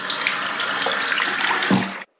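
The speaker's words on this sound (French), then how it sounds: "le robinet fontaine" Water runs from a fountain-style tap beside bathroom tiling, a steady close splashing stream that stops abruptly at the end.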